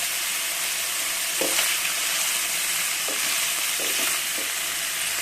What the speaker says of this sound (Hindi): फ्राई कर ले रहे हैं फुल फ्लेम पे